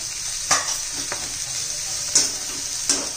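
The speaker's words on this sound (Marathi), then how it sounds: "हे पण आपण तेलात चांगला असं परतून घेऊया" Spiced masala of chilli powder, turmeric and coriander powder sautéing in hot oil for a green bean sabzi: a steady faint sizzle with a few soft stirring scrapes, no talking.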